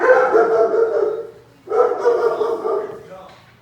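A dog barks and yips in two quick bursts close by, separated by a short pause, trailing off at the end.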